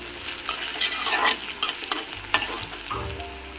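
Onion, green chilies and garlic fry in a pan, a close steady sizzle broken by the scrape and clatter of repeated stirring.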